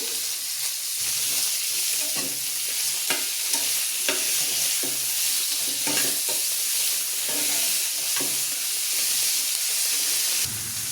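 Masala roasts in oil in a pan for palak chuna ghode, a continuous bright sizzle and frying hiss with occasional scraping stirs, close and steady without talk.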